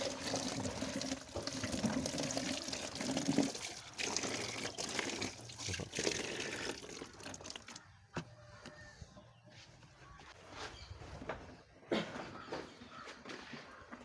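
A Gir cow drinking water on a village farm, near and moderately quiet, with wet slurps and sloshing that come in irregular bursts and fade between sips.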